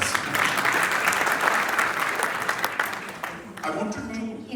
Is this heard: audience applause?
yes